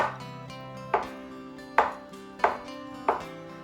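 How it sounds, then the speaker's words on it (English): A boiled egg is sliced with a knife on a cutting board while prepping a salad, giving five sharp, evenly spaced chops that are close and clear, with no talking. "And then I will go ahead and cut my egg."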